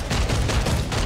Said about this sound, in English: Now, please demonstrate the tail gun for us.